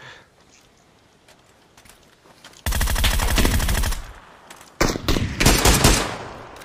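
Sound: gunfire in a shooting video game

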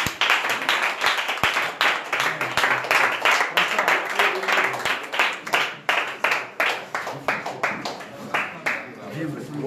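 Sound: audience applause and clapping

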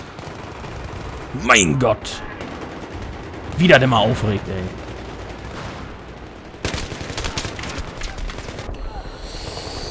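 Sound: gunfire in the video game Battlefield 3

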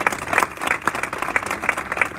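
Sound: audience applauding Mziane Abdan

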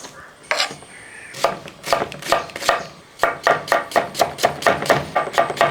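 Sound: chopping spinach leaves with a knife

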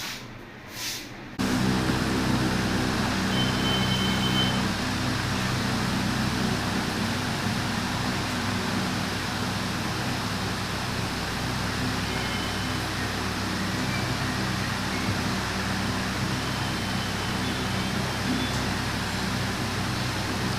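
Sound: ceiling fan running

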